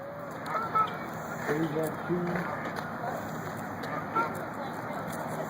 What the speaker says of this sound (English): Look at those big old pelicans.